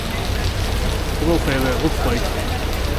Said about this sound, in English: I don't think they filmed it in this kind of crazy rain.